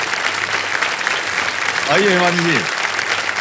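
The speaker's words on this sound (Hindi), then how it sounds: "हिमानी जी के लिए एक बार फिर जोरदार तालियां बज जाए" Studio audience applause on the quiz show Kaun Banega Crorepati, a loud sustained wash of clapping as a contestant is sent off, with a voice speaking over it briefly near the middle.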